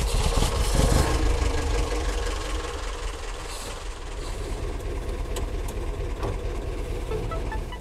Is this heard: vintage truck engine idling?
yes